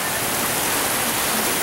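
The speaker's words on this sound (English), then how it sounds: "it's just gorgeous out here in the rain." Rain falls outdoors on a warm evening, a loud dense steady hiss of drops with no pauses and no voices.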